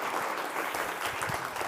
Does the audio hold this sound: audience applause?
yes